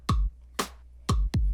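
An OP-Z synthesizer drum sequence repeats three deep, boomy kicks and a snare hit that lands with a broad, noisy crack between them, close and dry with no voices.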